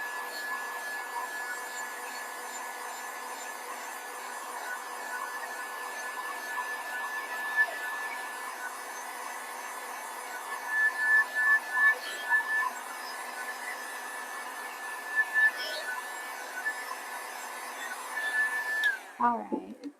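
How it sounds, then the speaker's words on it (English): A heat tool blows hot air over fabric to dry it, a steady whooshing drone that runs for about nineteen seconds before cutting off abruptly. "So blow dry it. Heat tool, guys. So it doesn't get smeared."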